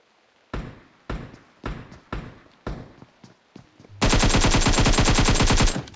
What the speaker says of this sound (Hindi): मैं प्री फायर देता हूँ कि क्या पता मेरे प्री फायर में आ जाइए